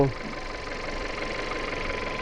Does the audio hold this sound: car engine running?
yes